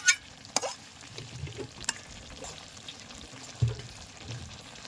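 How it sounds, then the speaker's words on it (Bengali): A spoon gently stirs pointed gourd curry cooked in coconut milk with rice paste in a pan. Soft scrapes and a few sharper knocks sound over a low simmering sizzle, close and quiet. "এই পিঠুলিটা দেওয়া হয়ে গেছে, এবার একটু আমি হালকা নাড়াচাড়া দিয়ে নেব।"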